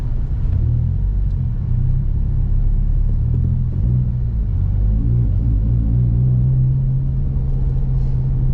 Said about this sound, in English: I'm just gonna get some cooler air through the car real quick by, you know, driving around the pits